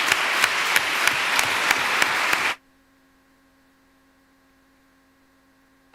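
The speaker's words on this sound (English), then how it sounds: "a big round of applause" Symposium attendees at an oncology cell-therapy conference clap for the session's speakers in a brisk burst of applause. The clapping cuts off abruptly after about two and a half seconds, leaving only a low electrical hum.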